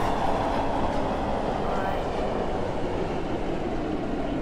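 A video game train rumbles and grinds along the track as it is brought to an emergency stop, a steady heavy roar with faint clatter and a thin squeal.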